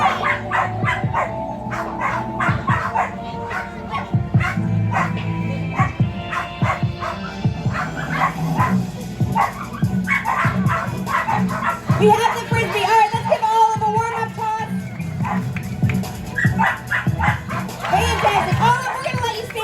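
Dogs bark and yip repeatedly throughout a SuperDogs performance at the Timmins Fall Fair, mixed with an announcer's amplified voice and crowd noise in a lively outdoor arena.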